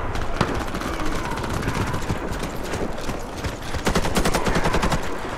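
Rapid bursts of automatic gunfire crackle in a bomb-defusal first-person shooter match, dense and rhythmic for most of the stretch and loud throughout, with no one speaking.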